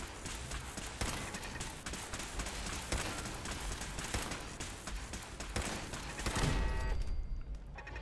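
Rapid gunfire in Fallout 4 crackles in dense, rattling bursts, loud and continuous, with a final heavier volley near the end.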